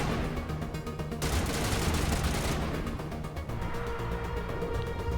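Sustained gunfire in the Mass Effect video game, dense rapid bursts of shots layered continuously over a low game-score rumble, loud and close throughout with no pauses.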